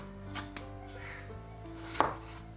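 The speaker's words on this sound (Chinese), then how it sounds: "然后就开始切片" A kitchen cleaver slices a potato on a cutting board, giving a few soft, sparse cuts followed by a sharper knock near the end, heard close against a faint hum.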